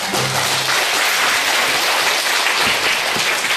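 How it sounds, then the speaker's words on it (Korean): Audience applause after a lecture on natural healing for health: dense, steady clapping from a full room, continuous and fairly loud throughout, with no talking. "다시 한번 감사의 박수"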